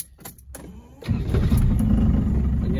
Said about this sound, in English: Again, starts up nice and easy.